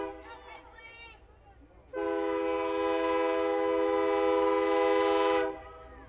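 A passing train near a college softball field sounds a long, loud, steady horn blast lasting about three and a half seconds, after a faint voice and distant background at the start.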